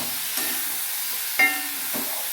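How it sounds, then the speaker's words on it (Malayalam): Prawn roast with tomato gets stirred in a frying pan, a low sizzle under a few scraping strokes of a spoon against the pan, close up and without any talk. "ഇനി നന്നായിട്ട് ഇളക്കി കൊടുക്കാം."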